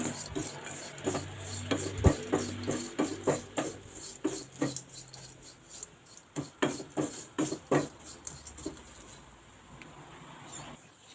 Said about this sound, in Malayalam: നമുക്ക് ഈ പൊടികളൊക്കെ ഒന്ന് മൂക്കുന്നോടം വരെ ഒന്ന് ഇളക്കി കൊടുക്കാം